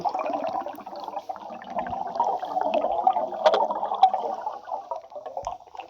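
A bathtub-shaped car in the video game Roblox gives off a strange, wobbly gurgling water sound, fluctuating in waves and fairly prominent, with no voices.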